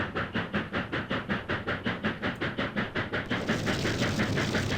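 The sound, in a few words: steam train running in Trainz video game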